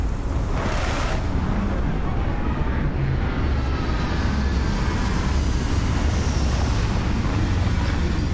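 A spaceship touches down in the video game Starfield, a loud, steady roar of engine thrust and rushing air that holds throughout without a break, with no talking over it.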